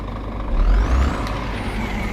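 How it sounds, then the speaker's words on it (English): A truck's air brake in a truck simulator game releases one short, loud hiss over a low idling engine rumble. "Got the handbrake on."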